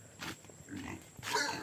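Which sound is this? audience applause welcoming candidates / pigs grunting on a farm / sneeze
pigs grunting on a farm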